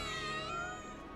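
A cat meows in the video game Final Fantasy 7 Remake, one drawn-out, close, harmonic meow lasting about a second and fading at the end, with nothing else heard.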